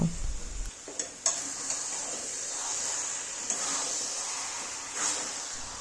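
A fish-head and mixed vegetable curry is stirred in a pan, with soft scraping and clinks of the spoon over a low, steady sizzle, plus a few sharper metallic knocks.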